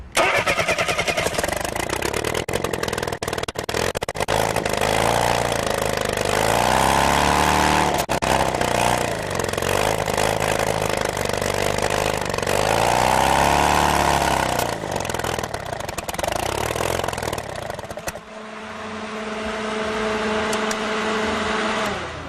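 An experimental Bourke engine runs loudly and continuously, its pitch rising and falling in slow surges, then it cuts off abruptly near the end and a softer rumble follows.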